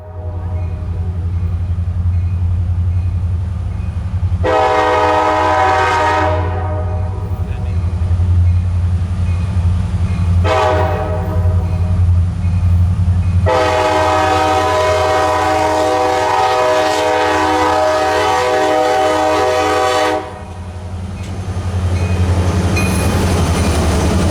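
Norfolk Southern freight train L620 passes Cary station in snowy North Carolina, a loud continuous rumble of rolling cars under repeated long, blaring horn blasts, one short and two extended.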